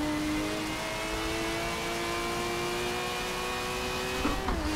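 A car engine in the racing video game Forza 7 revs high and holds a steady, loud whine with clear rising harmonics, ending in a quick shift or rev change near the end, with no voices over it.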